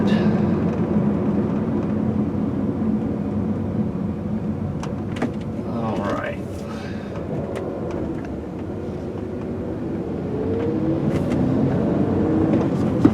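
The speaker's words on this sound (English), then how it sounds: "Definitely feel like the motor's really strong in this one." A 2004 VW Jetta GLI with a V6 and six-speed manual, cruising at about 55 mph, gives a steady engine and road drone from inside the cabin, holding an even level throughout with no talking.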